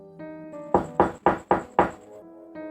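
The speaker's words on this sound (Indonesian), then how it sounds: "tiba-tiba terdengar pintu belakang diketuk" Knocking on a back door as an audio drama effect: five loud, close wooden knocks in an even row over soft background music, with no voices.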